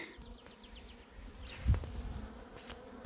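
Honey bees near their hives buzz in the evening while gathering at water, a faint, close drone with a few wingbeats passing by, quiet overall and free of talk.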